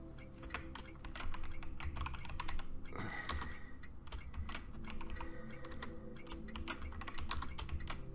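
Computer keyboard typing runs as a steady stream of quick clicks, close and fairly loud, during a Factorio session, with a low background hum underneath and no talk.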